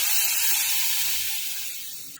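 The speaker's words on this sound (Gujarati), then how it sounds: "હવે છાશવાળું બેટર એડ કરી દઈશું આપણે અંદર" Buttermilk batter poured into a hot green-chilli tempering for farali kadhi, giving a loud, steady broadband sizzle and hiss that stays strong and slowly fades over a couple of seconds, then cuts off.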